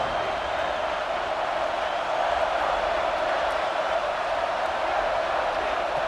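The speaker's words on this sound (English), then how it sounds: "how nice is it to have the home crowd going absolutely bananas?" A home stadium crowd in EA Sports College Football 26 roars in a steady, dense wall of noise that holds at constant loudness throughout with no break.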